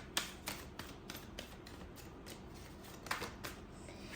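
Cards being shuffled in a quiet room, with soft riffling and a few sharp flicks and taps spread through the clip, faint and close, no talk.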